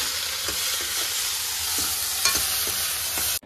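Tomatoes and onions sauté in a pan with a steady broadband sizzle, punctuated by several soft utensil scrapes as they are stirred, ending abruptly.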